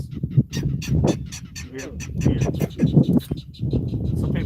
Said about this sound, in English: Y'all hear that? That's marsh chickens.